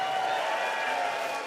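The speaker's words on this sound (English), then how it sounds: "I never thought a thick stack would be able to get applause like that." An audience at a convention opening ceremony applauds, a steady wash of clapping heard at moderate distance for a brief moment with no voices on top.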